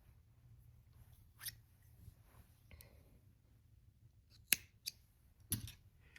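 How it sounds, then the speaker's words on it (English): Scissors snip crochet yarn to cut a long tail after a beanie is finished, giving a few sharp, close clicks spread across a quiet room. "And I'm going to chain 1 and cut a very long string."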